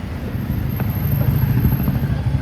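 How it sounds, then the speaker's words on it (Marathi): Auto rickshaw engine droning while riding, a low, steady rumble with slight fluctuations and road noise, close and continuous with no clear talk. "रिक्षामध्ये चाललो आपण"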